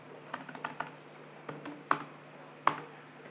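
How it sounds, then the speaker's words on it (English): Typing JavaScript on a computer keyboard: a run of light, close key clicks in irregular bursts, with a few sharper louder strokes, no voices. "please type the script"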